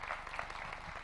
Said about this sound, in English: let's give another huge round of applause for the founder of